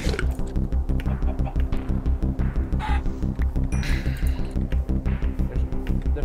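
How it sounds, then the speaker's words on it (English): Minecraft chickens cluck in rapid repeated bursts over a rhythmic pulsing game soundtrack, close and fairly loud. "And there's a chicken next to it."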